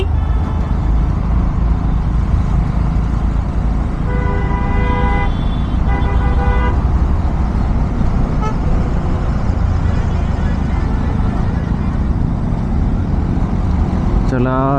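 City traffic jam at Chandni Chowk seen from a motorbike, with a large truck blocking the road: a steady engine and road rumble carries repeated car horn toots in short bursts in the middle and another at the end.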